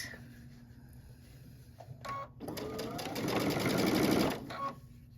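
A sewing machine stitches a crushed ruffle onto fabric, its motor whirring up to a steady, rapid run for a couple of seconds after a few short starts, close and fairly loud, then stopping.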